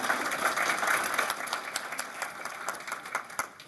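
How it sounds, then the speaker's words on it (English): An audience applauds students at a panel event at AUT, steady clapping from many hands that thins toward scattered claps at the end, with no speech over it. "Can we just give another round of applause for our students?"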